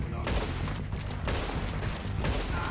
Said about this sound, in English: Shoot him through the wall.